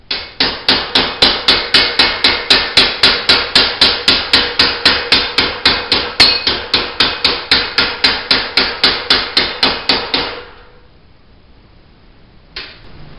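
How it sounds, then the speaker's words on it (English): Rapid, evenly spaced metallic hammer blows from a body hammer flattening stainless steel sheet metal ring out close by, about three per second for ten seconds, then stop; one last faint tap follows. "My body hammer though. I'm just gonna flatten this out a little bit more."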